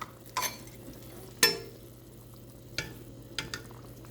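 Brown sugar stirred into tender oxtails in a pot, a few soft scraping stirs and light sizzle spaced across a quiet background.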